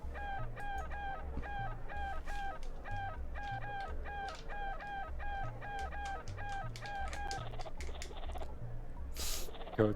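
Repeated clucks from a chicken in the Secret of Evermore video game, tapped out in a steady rhythmic clave-like pattern over a looping low game music bass line.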